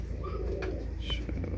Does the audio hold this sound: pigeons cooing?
yes